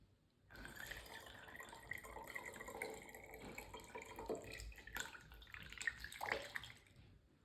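Water poured steadily into a container during a preschool science activity, a continuous splashing, gurgling stream that runs for several seconds, fairly faint, with no talking over it.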